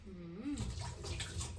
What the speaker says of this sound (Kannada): ಆಮೇಲೆ ಸ್ವಲ್ಪ ನೀರು ಹಾಕ್ಕೊಬೇಕು.